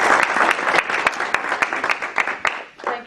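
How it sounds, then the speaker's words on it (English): Round of audience applause for workshop facilitators at a professional association presentation, brisk dense clapping from a room of people, loud and close, tapering slightly at the end. "let's have a nice round of applause for the facilitators."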